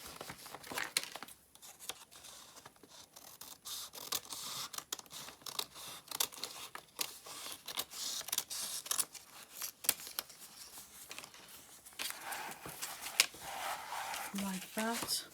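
Scissors cutting through paper during a papercraft project, a steady run of sharp snips mixed with crinkling and rustling of the sheet, close by, with a person talking softly at times.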